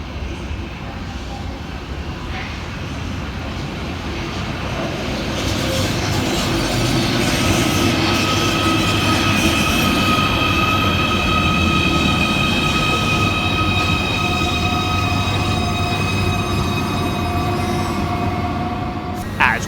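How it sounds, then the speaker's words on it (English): A Merseyrail class 777 electric train rolling into a station, a loud swelling rumble of wheels on rail that builds and holds, with high whining tones and brake squeal on top. "Arriving next into the station is 777 144, working the 1452 Merseyrail electric service from Headbolt Lane through to Liverpool Central"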